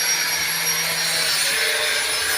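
Children drill into a coconut shell while making a lamp from recycled materials. The result is a loud, steady, close grinding and rasping noise that runs without a break and with no talking.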